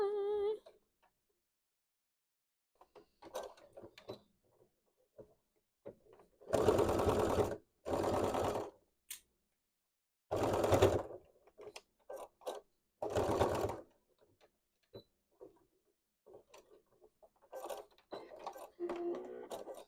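A sewing machine stitches in several short, loud bursts while a hat is being made, with quiet gaps and small handling noises between runs.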